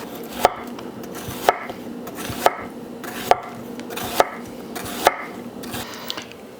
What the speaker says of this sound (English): Next, we're going to do some cabbage.